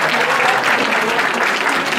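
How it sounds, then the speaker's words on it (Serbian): An audience at a CFO and controlling business congress applauds the panelists, a loud, close burst of many hands clapping that holds steady for a couple of seconds. "evo jedan aplauz za vaše paneliste"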